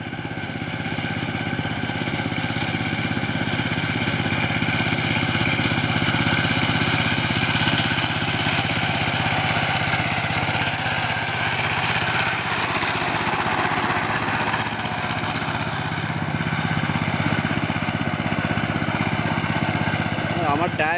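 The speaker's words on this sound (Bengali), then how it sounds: "পুরাটা পাওয়ার টিলার ধানের গুঁড়ার মধ্যে একদম ডুবে গেছে" A Saifing 12-horsepower power tiller engine cultivating land in a paddy field, a loud steady mechanical drone running without pause, close by, with voices partly lost under the noise.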